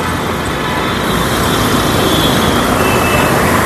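A container truck hauling a 2014/15 Swift Dzire VXI petrol car pulls away, its steady broadband engine and road rumble filling the scene at a constant, fairly loud level with no talk.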